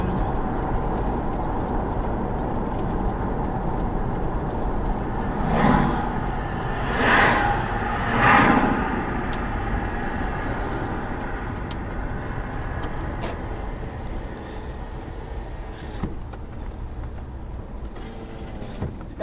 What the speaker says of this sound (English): So we'll just do a quick drive from east to west and west to east through the Tyson Wells shopping area.